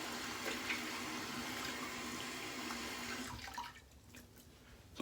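Running tap water splashes steadily as hands are rinsed at a sink, then cuts off and leaves only faint drips and handling sounds.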